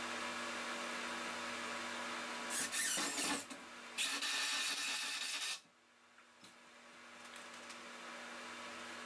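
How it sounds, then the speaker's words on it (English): A Ridgid impact driver drives screws into a folding work bench in two loud bursts of whirring and rattling, then stops, with a quiet room hum before and after. "Now the rigid is actually an impact driver and makes putting screws on extremely easy."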